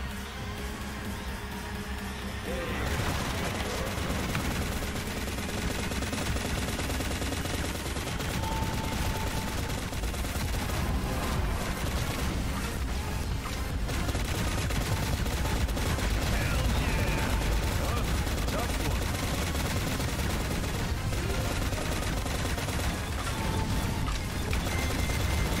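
Sustained rapid machine gun fire in the shooter video game Shadowgun Legends, in a Silver Arena match, loud and continuous for most of the stretch after a quieter opening.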